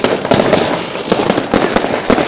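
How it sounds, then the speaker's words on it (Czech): Small firecrackers go off at a New Year's Eve party, a rapid irregular string of sharp cracks and pops, loud and close, with a few louder bangs spaced through the burst. "Bobo, máš ty malý petardy? Dej mi taky."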